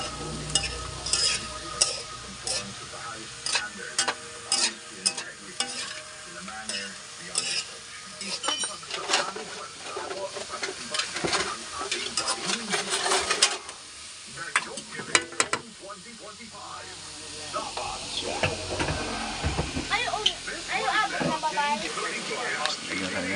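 Kangkong with kikiam gets stir-fried and seasoned with soy sauce, a spatula scraping and clinking against the pan over a constant sizzle, with a louder hissing burst partway through and a voice talking over the cooking.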